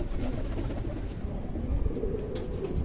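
Teddy highflyer pigeons, a Salara Teddy pair, coo softly at close range over a dense, noisy background hum.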